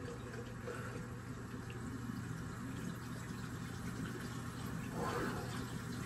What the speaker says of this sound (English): Let me wet the whole rag.